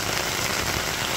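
Steady rain falling on a wooded forest trail, a dense, even hiss of drops on leaves and ground that fills the whole moment with no voices.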